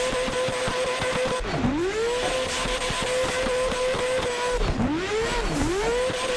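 Rotary-swapped McLaren drifting in Assetto Corsa, its high engine note rising and dipping through repeated rev swoops over a constant harsh roar of burning, squealing tires, loud and sustained with no talk.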